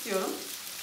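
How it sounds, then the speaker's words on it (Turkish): Köfte meatballs frying in a pan give a short burst of soft sizzling, with a brief voice-like tone over it. "diğer malzemelerin içerisine aşama aşama köftelerimizi kızarmaya bırakalım"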